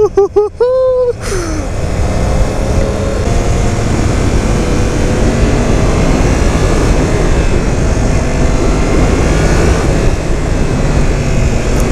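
A 2017 Yamaha FZ-10 motorcycle with the R1-derived engine pulling hard, a loud continuous rushing engine and wind roar building steadily after a short burst of voice at the start.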